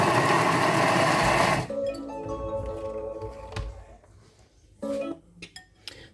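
A kitchen food processor mixes rice salad for about three seconds at speed 5, giving a loud, steady whirring roar that cuts off abruptly. Light clinks of the lid follow, and a voice speaks afterward.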